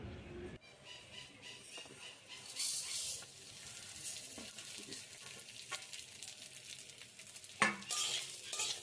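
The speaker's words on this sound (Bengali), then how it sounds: "এবার এই ঘি দিয়ে চালটাকে খুব ভালো করে ভেজে নেব, একদম ব্রাউন ব্রাউন করে।" Raw rice is fried in hot ghee in a wok over a low flame and stirred steadily, giving a continuous close sizzle broken by scraping and clinking of the stirring utensil, with no talk.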